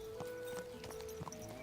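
A ridden horse's hooves clip-clop in a loose, uneven rhythm of hollow knocks, fairly close over a steady droning background.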